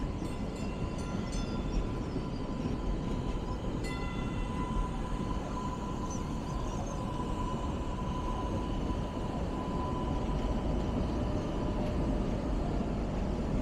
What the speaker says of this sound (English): we'll go ahead and watch the trains go